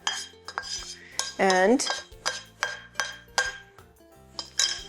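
Pasta with garlic and eggs is tossed with a metal utensil in a pan, giving a run of sharp, separate clinks and scrapes about twice a second, close and alone, with a brief ringing squeal near the middle.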